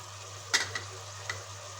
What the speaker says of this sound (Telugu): ఇవన్నీ బాగా మిక్స్ చేసుకొని పచ్చివాసన వెళ్ళేంత వరకు మనం ఫ్రై చేసేసుకోవాలి ఆయిల్లోనే